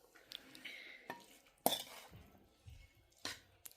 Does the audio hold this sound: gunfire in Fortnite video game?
no